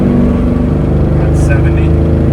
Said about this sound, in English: I'll give it some gas here in third at 45.